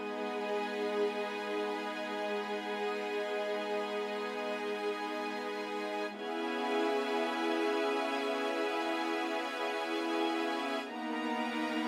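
Session strings play sustained full chords in a sampled production, a smooth, moderately quiet string pad holding each chord for several seconds before shifting to the next, with no voices.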